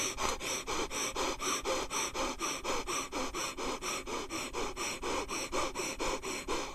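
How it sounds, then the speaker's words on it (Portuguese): During a breathing exercise, someone breathes quickly and forcefully through the nose in about two dozen steady, even bursts, a close, loud panting rhythm heard on its own. "deve ser uma respiração realmente rápida, fugaz, com muita energia"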